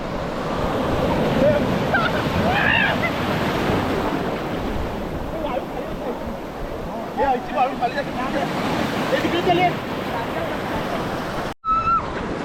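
Sea surf washes onto Madban beach on the Konkan coast near Rajapur, a constant broad roar of waves mixed with wind, cutting out briefly near the end.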